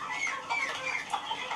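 Several hens cluck and murmur softly in short overlapping calls inside a henhouse, a low continuous chatter close by.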